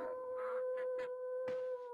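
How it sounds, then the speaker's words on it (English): Dogs howling in the video game SurvivalCraft: a few short, rising wails in bursts, mid-loud over a steady electronic hum, with no talking. "Oh god, the dogs are coming."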